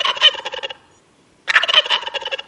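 Free-range turkeys gobble in two loud bursts of rapid, rattling calls separated by about a second of silence, close and clear with no talking.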